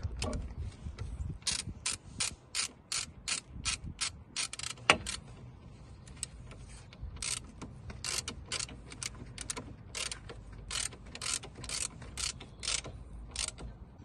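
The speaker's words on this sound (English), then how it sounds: "so just gonna tighten the brake pipe clamp bolt." A ratchet tightens the brake pipe clamp bolt on a Peugeot 207, with long runs of rapid, crisp clicking strokes close by and short pauses between bursts.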